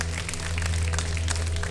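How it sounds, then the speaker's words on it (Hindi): Studio audience applause on a TV iftar show, a brief wash of scattered claps under a steady low hum, moderately loud and continuous. "देखें आपके लिए तालियां बजा रहे हैं"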